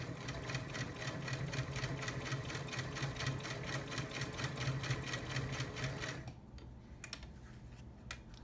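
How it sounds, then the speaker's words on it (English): A vintage Singer Stylist 513 straight-stitches two layers of denim with a longer stitch length, a fast rhythmic mechanical chatter running steadily for about six seconds before stopping, leaving quiet clicks. "So I'll put her back to straight stitch, and we'll do a longer stitch length."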